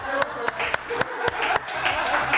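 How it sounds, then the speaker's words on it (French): Studio audience on a French TV talk show breaking into applause, a steady wash of clapping with a few sharper claps standing out, under a busy room tone. "Oui, on va l'applaudir."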